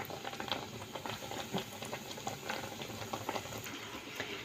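Eggplant slices frying in a pan of hot oil, a steady crackling and bubbling sizzle with scattered pops, moderately quiet and with no voices.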